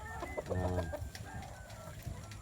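Gamecocks on a farm cluck nearby, giving a few short harmonic calls that stand out over steady background hum and light ambient noise.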